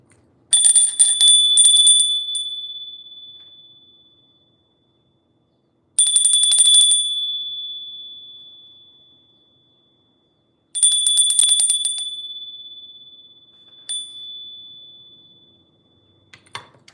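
A small bell is struck three times with long pauses between, each ring a bright metallic burst that sustains and fades slowly to silence, followed by a fainter short tap near the end.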